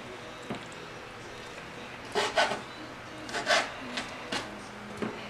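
A knife cuts chicken into inch-and-a-half pieces, making a few soft scraping strokes against a board, close and quiet over low background noise.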